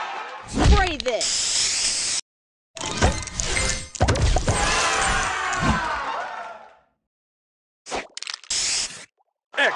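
Match Masters video game spray booster effect: bright hissing, sparkly bursts in several separated chunks with game voice lines and effects, loud and close.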